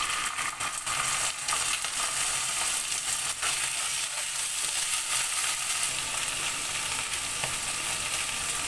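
Ginger, garlic and cumin paste frying in oil with fried fish and potato, a loud steady sizzle close by with occasional scraping stirs.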